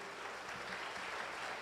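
A church congregation applauding during a sermon, a soft, distant, steady patter of many hands, faint and continuous with no voices over it.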